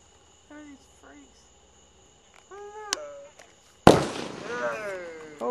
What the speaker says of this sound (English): Don't get hit in the head with fireworks!